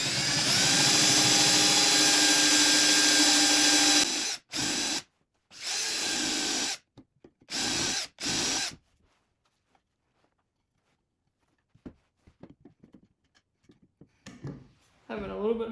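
A cordless battery drill bores a hole for joinery, running loud and steady for about four seconds, then stopping and restarting in several short bursts before falling quiet, with faint handling noise afterward.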